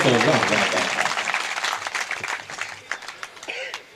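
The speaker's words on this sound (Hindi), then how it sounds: "जोरदार तालियां बजाइए।" An audience claps loudly at a mushaira poetry gathering in Deglur, the dense applause strongest at first and thinning over a few seconds, with voices in the crowd.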